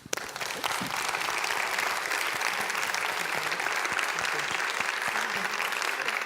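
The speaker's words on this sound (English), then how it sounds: "I just wanted to give you guys a round of applause" An audience at a community panel breaks into sustained, dense applause that stays loud and steady throughout, with no voices over it.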